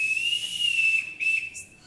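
A ship's-captain father blows a shrill, piercing whistle to summon his children: a long sustained blast, a brief break, then a second blast that trails off, loud and close, with no talking.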